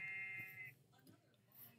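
Sheep bleating in a video game, a buzzy nasal bleat at the start followed by quieter game ambience.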